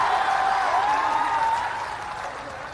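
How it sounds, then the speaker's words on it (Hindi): Applause from the audience at a political youth rally in Patna, a steady wash of clapping that fades slightly toward the end. "बजाइए ताली जरा।"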